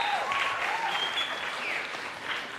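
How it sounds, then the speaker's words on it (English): Audience applause at an afternoon citizens' assembly, a steady wash of many clapping hands sustained throughout at moderate level, with faint tonal sounds mixed in. "Can we have another round of applause for the one and only Sanepe?"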